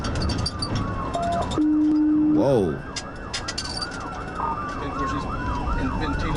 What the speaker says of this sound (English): The cars, they pull over when the sirens is behind them.